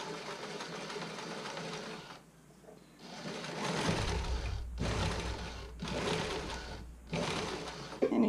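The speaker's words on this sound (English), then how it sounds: "I can just zigzag straight across" A sewing machine zigzag stitches elastic onto a Cashmerette Willowdale bra fitting sample, running in several close bursts broken by brief pauses.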